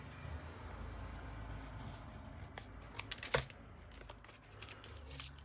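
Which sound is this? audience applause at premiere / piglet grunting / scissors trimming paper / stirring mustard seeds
scissors trimming paper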